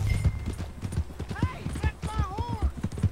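In Red Dead Redemption 2, a horse's hooves clip-clop in a steady, close rhythm, broken by a whinny. People talk over the hoofbeats throughout.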